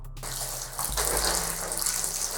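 Water from a tap gushes into a sink to rinse a bleach-dyed t-shirt. The steady splashing flow starts after a brief quiet moment and grows fuller as it hits the fabric, close and alone.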